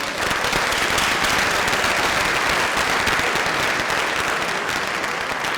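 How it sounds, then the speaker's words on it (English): Students at a Shorewood High School freshman orientation applaud in a dense, loud, sustained round of clapping from a large crowd, holding steady for several seconds with no talking over it. "Give yourselves a round of applause."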